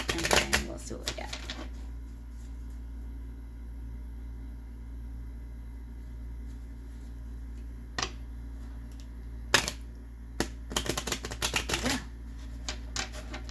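Tarot cards are shuffled by hand in bursts of quick riffling flutter, a dense clatter at the start and again near the end, with quieter stretches between over a steady low background hum.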